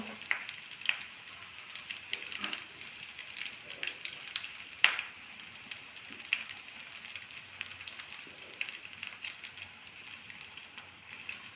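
Stuffed masala chilli bajji, dipped in batter, frying in hot oil, giving a soft, continuous bubbling sizzle with scattered faint crackles and pops.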